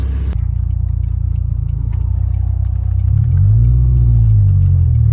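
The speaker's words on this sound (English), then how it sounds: "I want you guys to hear the exhaust" A car exhaust rumbles loudly from inside the moving vehicle, a steady drone that deepens and swells as the engine pulls harder.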